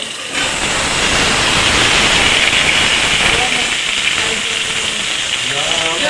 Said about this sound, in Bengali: এবার আলুর মধ্যে সমস্ত যে সবজি সব সবজি দিয়ে দেবো